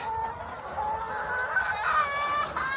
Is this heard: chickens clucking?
yes